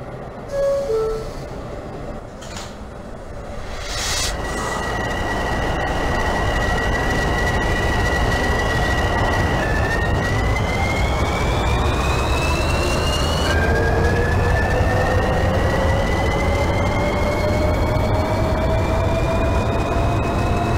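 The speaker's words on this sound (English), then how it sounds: "This is a Hanover Spirit-bound 2 train." An R153 subway train on the 2 line in the OpenBVE train simulator game runs steadily with a continuous low rumble, while electric motor whines climb in pitch as it picks up speed. No one speaks.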